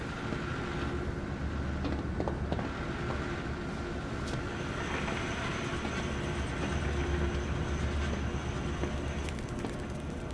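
A zoo train rumbles along steadily in the horror game Zoochosis, a dense continuous rolling roar with faint rail clatter throughout.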